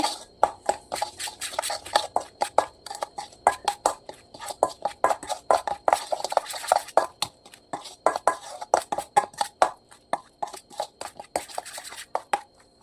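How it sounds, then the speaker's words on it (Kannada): An egg is beaten into a marinade in a bowl for chicken pepper tava fry, making fast, uneven clinks and taps of a utensil against the bowl throughout, with no talking. "ಈಗ ಇದನ್ನು ನಾನು ಚೆನ್ನಾಗಿ ಮಿಕ್ಸ್ ಮಾಡ್ಕೊಳ್ತಾ ಇದ್ದೀನಿ."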